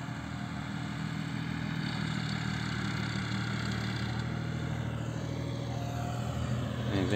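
A tractor engine idles at a grass harvesting site, giving a steady low mechanical rumble with light clatter that holds throughout, moderately loud and unchanging.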